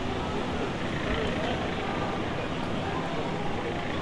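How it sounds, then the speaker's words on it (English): A police helicopter hovering overhead during a night curfew amid street protests in Atlanta, a steady, broad, continuous rumble of rotor and engine noise with no breaks. "all you can hear essentially is a hovering police helicopter overhead"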